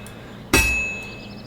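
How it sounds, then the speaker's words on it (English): A smith's hammer strikes an anvil once in the video game Kingdom Come: Deliverance II, a sharp metallic clang ringing on with a long bright tone, close and alone without talk. "if it was all about hitting an anvil with a hammer, any dog could do it"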